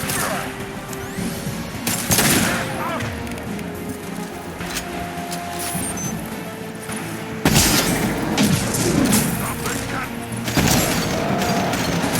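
Heavy impacts and crashes in Mass Effect 2 combat as the Impact Shot ability fires, with bursts of blasts and booms over a dense battle din, voices calling out in between.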